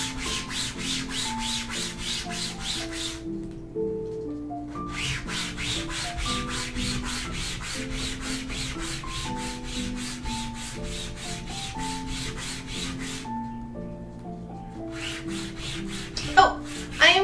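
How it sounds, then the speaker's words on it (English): Continuous rhythmic rubbing and scraping of sanding cosplay spikes, in repeated strokes with brief pauses, over steady background music. "Five more, and then we will be done sanding spikes."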